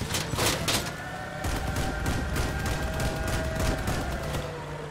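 Rapid machine gun fire from armored vehicles in the game Crossout, with dense overlapping bursts rattling continuously over a rumbling engine drone.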